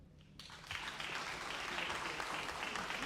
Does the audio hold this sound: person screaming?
no